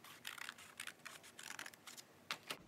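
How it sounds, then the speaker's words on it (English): Scissors snip through card stock in a quiet, close series of short crisp cuts, with two sharper snips near the end. "So I'm just going to cut it right like this."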